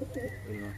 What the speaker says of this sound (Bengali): প্রত্যেকটা দেশি কবুতর, সুন্দর সুন্দর কবুতর আছে।